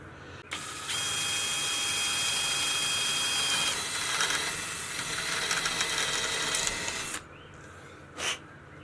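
A power drill whirs loudly up close for about six seconds while drilling a pin hole for a greenhouse door latch, its pitch shifting as it bites, then stops, followed by a short burst.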